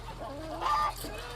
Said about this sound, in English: we're going to listen to the roosters,